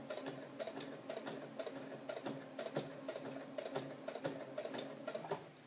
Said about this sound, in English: Don't hurry your machine through all this thick fabric.